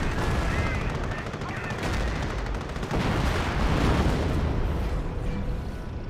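Dense gunfire and artillery blasts from the World War II strategy game Company of Heroes, loud and continuous, with rattling bursts and booms layered throughout.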